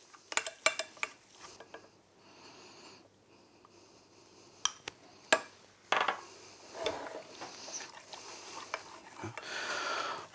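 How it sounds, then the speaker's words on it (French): A spatula works eggs into a waffle batter base of melted butter, producing intermittent sharp clinks and taps against the bowl, then softer wet scraping and slapping strokes that grow busier toward the end. "On démarre à la spatule pour l'intégration de l'œuf"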